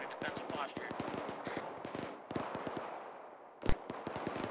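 Rapid bursts of gunfire in ArmA 3 crackle in uneven volleys, mostly at middle distance, with one sharp, louder shot standing out near the end while faint voices talk underneath.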